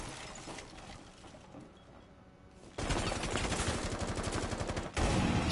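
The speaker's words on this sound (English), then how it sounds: "He's trying to wallbang me from like this side" Rapid automatic gunfire in Rainbow Six Siege on PS5 rattles through walls, muffled at first and then bursting into dense, loud sustained volleys with a brief break before resuming.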